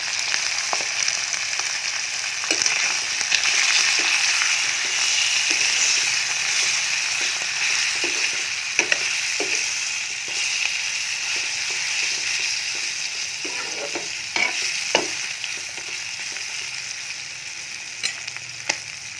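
Meat seasoned with salt and turmeric sizzles steadily in a pan for a long stretch, with frequent scattered clicks and scrapes of a spoon stirring it and no talking.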